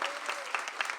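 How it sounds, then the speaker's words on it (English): Audience applause at a Skylight Books author reading in Los Angeles: a short, dense burst of clapping from a small crowd indoors, fairly even throughout. "Let's give her another round of applause."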